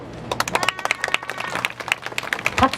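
A crowd claps at an outdoor Wednesday demonstration in Korea over the Japanese military sexual slavery issue, giving a short run of brisk, uneven applause, close and moderately loud.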